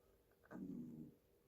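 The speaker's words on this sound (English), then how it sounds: "You can hear the dog growling there in the background." A dog growls low and brief in the background, a single faint rumbling snarl lasting about half a second in a quiet room.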